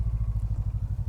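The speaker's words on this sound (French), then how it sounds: "La moto s'éteint d'elle-même." A motorcycle engine runs with a rapid, throbbing low pulse, close and steady, shortly before dying once its ignition circuit is cut.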